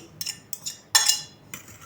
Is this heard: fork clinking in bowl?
yes